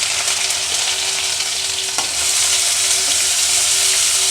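Onions fry in hot oil for a raw prawn curry with tender tamarind leaves, a loud, steady sizzle close up with a brief utensil clink partway through and no talk.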